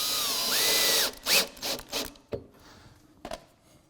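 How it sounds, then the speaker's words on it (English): A power drill drives two screws into countersunk holes in a wooden kitchen island build, with a short high whir, then several brief bursts of driving and ratcheting, with pauses between them. "I have just 2 screws that are going to go in these holes that we countersunk."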